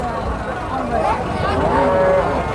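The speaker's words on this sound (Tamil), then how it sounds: "காளைக்கன்று நல்லா இருக்குது." Bull calf mooing at a cattle market, a close, drawn-out low call rising over a noisy backdrop of livestock and market bustle.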